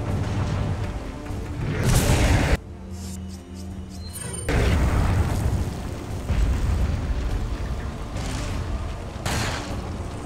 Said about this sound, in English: How about some grenades?